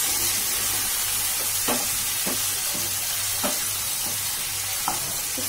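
Tomatoes frying gently in a pan for a dhaba-style matar paneer, a soft continuous sizzle broken by a handful of distinct spoon scrapes at irregular intervals, nearby and steady, over a faint low hum with nobody speaking.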